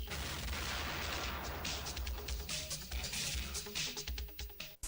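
Cannon fire sound effect for a radio show: a dense rumbling barrage of booms and cracking blasts rolls on for several seconds, loud and full, ending in a sharp final burst.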